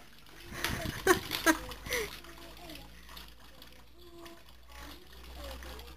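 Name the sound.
baby being bathed in a washbasin, water splashing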